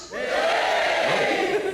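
A live comedy crowd at a Sarah Millican show cheers and yells together in a loud, sustained burst that swells quickly and holds until the end.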